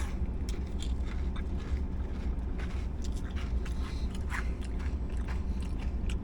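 Crisp crunching bites into a dark, crusty deep-fried hush puppy from Long John Silver's, with scattered crackly chews over a steady low background rumble and no talking.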